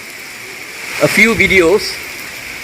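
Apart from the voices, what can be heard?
heavy rain falling in a Singapore forest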